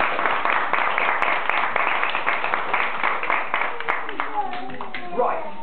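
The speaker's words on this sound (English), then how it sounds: "A round of applause for yourselves." A young audience claps for itself at a children's author event, brisk scattered hand claps that thin out toward the end as voices rise over the tail.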